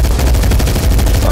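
Dense, loud gunfire in online Medal of Honor multiplayer, a continuous wash of rapid shots with no gaps.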